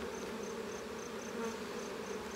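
Honeybees around an opened beehive during a hive inspection, a soft steady droning hum with no break, heard close but faint.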